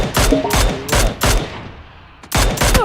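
Several loud gunshots from the Valorant video game burst out in uneven bursts, with a short pause near the middle before more firing resumes.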